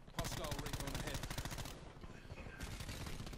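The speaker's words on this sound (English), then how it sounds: "He's shooting at me" Rapid bursts of video-game gunfire from an online shooter match, sustained automatic fire dense and loud throughout, with a brief lull partway, under occasional player chatter.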